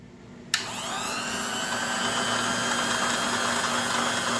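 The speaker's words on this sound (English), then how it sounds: "this switch should run this motor" A Black and Decker valve resurfacer, a valve seat grinder, has its motor switched on with a click. It then spins up into a loud, steady whine that holds without a break, close by and with no voices.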